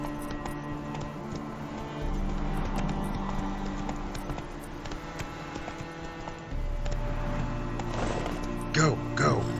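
Hoofbeats of a galloping horse in a video game, a steady rhythmic clip-clop that swells partway through, with a voice talking over it.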